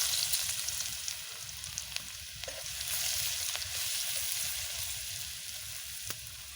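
Chopped garlic frying in a hot pan with cooked meat for homemade chicken chow mein gives a steady, close sizzle with faint crackles throughout, and no voices.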